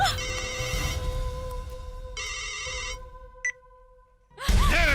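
A phone ringtone in a Bhojpuri film scene sounds as repeated bursts of a tonal melody with pauses between them, then a sharp noisy sound cuts in at the end.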